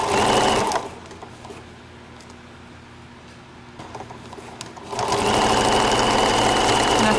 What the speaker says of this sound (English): I think I'm going to take a few extra stitches on the handles.